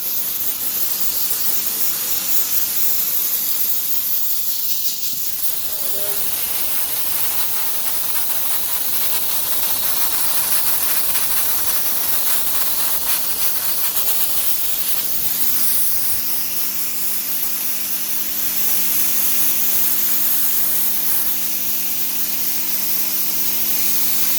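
Soda blasting with Soda 7 media strips rust from metal, a loud continuous close-up hiss of compressed air and abrasive spray that runs unbroken throughout with slight variations in intensity.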